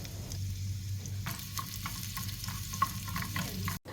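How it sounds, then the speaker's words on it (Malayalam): Small shallots sizzle in ghee in a pan as they fry, making a steady close crackle with occasional stirring scrapes and no talking. "ഇങ്ങനെ ചെറുതായിട്ടൊരു ലൈറ്റ് ഗോൾഡൻ കളർ ആകുന്നവരെ നന്നായിട്ടൊന്ന് ഫ്രൈ ചെയ്തെടുക്കുക"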